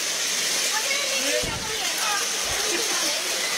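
Strong floodwater waves surge and churn in a steady broadband roar during a big flood in Barangay Samaon, with someone talking over the continuous rushing water.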